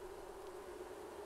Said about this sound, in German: Nimmst du die Bienen? Ja, die nerven nämlich schon.